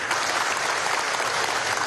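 Emotional audience applause at a Venezuelan armed forces technology innovation fair, dense and sustained clapping from a large crowd, loud and even throughout with no talk over it.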